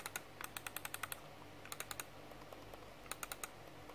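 Clicks from a Logitech M220 Silent wireless mouse, heard close up as quick bursts of several soft, muted taps with short pauses between groups, over quiet room hiss.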